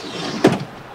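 A storage drawer in the back of a Jeep Grand Cherokee ZJ slides open with one short rolling scrape and a soft bump, close and brief against a quiet background.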